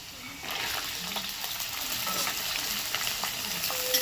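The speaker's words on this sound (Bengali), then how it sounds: "এবার দিয়ে দিচ্ছি ছোলা" Chickpeas soaked a few hours frying together with potatoes in a pan, a steady close sizzle with light stirring scrapes throughout, no talking.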